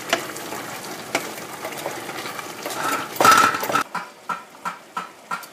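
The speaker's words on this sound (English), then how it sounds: "And I just stir it up in here." Cabbage soup vegetables stirred in a pot, giving a few scraping, clattering spoon strokes with a faint sizzle beneath, then a series of regular knocks toward the end.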